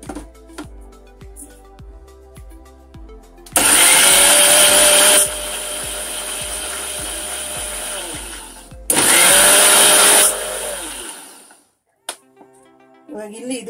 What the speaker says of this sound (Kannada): ಇದನ್ನ ಲಿಡ್ ಕ್ಲೋಸ್ ಮಾಡ್ಕೊಂಡ್ಬಿಟ್ಟು ಹೀಗೆ ತಿರುಗುನು ಇದನ್ನ ಗ್ರೈಂಡ್ ಮಾಡ್ಕೊಳ್ಳೋಣ